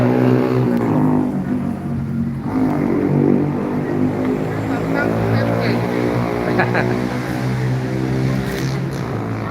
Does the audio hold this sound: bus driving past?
yes